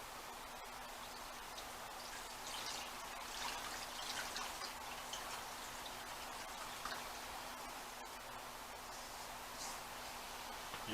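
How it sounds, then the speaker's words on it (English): Brine poured over a homemade corned beef brisket, a steady soft trickling and splashing of liquid that runs unbroken for the full stretch, fairly quiet and close, with no talking. "All we're going to do is pour it over the brisket."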